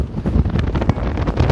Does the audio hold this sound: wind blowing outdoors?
yes